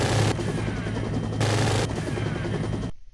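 Gatling guns spinning up in a Unity physics demo rattle out dense, continuous machine-gun fire, loud and sustained for about three seconds before cutting off abruptly.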